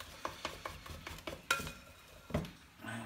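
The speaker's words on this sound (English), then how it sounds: "I'm going to use my palette knife, cake decorating palette knife, and I'm just going to scrape whatever's left in the bowl out of it" A cake-decorating palette knife scrapes leftover icing batter from a mixing bowl, a series of close clinks and scraping strokes in an irregular rhythm, with no talking.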